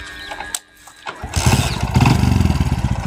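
A motorcycle engine starts after a couple of clicks, then settles into a loud, close, steady putter with a rhythmic throb.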